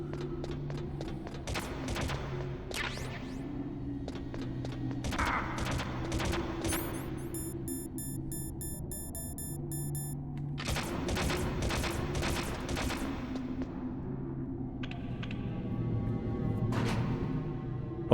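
Gunfire from wall-mounted camera guns in the Metal Gear Solid video game, with rapid bursts of sharp shots repeating in volleys over a steady game background hum, loud and close throughout.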